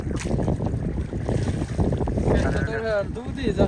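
Wind gusts roar across the Amu Darya river in Afghanistan during fishing, producing steady low rumbling buffeting on the microphone, with a voice speaking briefly near the end.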